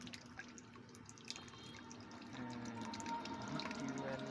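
Water runs from a deep tubewell tap on an island short of water, a faint, steady splashing flow that grows a little fuller partway through, with no voices.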